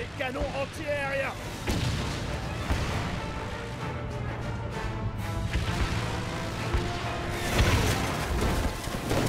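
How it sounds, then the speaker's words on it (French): In the video game Knack, anti-aircraft cannons pound away in a long, dense barrage of booms and crashes with mechanical clatter, and a game voice is briefly heard at the start. "Des canons anti-aériens."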